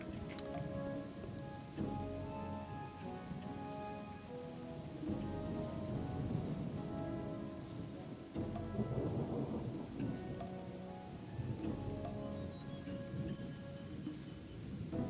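Steady rain pours down through a thunderstorm in the video game Gothic, with rolling thunder rumbling repeatedly over the dense, continuous downpour, no talking.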